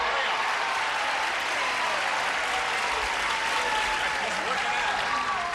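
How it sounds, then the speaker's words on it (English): A television game show studio audience in 1984 breaks into continuous, even applause with scattered whistles, a steady wall of clapping heard alone and holding at one level throughout. "A big round of applause for the stars of the match game."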